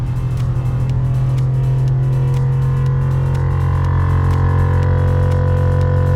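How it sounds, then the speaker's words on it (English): A steady mechanical hum from a small electric air suspension compressor, building to 200 psi, drones on continuously, with a faint rhythmic ticking over an idling Ford BA Fairlane engine. "There's the compressor running, coming up to its 200 psi preset amount."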